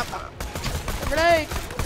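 Rapid gunfire in the video game Borderlands 2, a short burst of shots mixed with game effects and a whistling tonal sweep, fairly loud and close.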